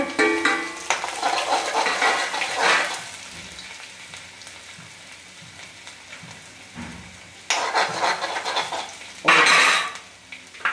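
Ginger dropped into clarified butter in a pan, hot sizzling and frying with metal utensil scrapes and clinks of cookware, bursts of louder sizzle near the end.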